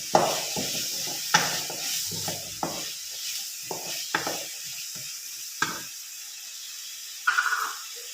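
Curry of chembu (taro) being stirred in a pan, with irregular scraping strokes over a light hiss of sizzling, fairly close and moderately loud, with no talk over it.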